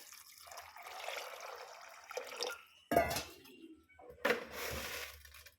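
Water poured into a pressure cooker holding kidney beans for a gravy, heard as a faint running pour with a couple of sharper splashes and clatters, close by with no talk.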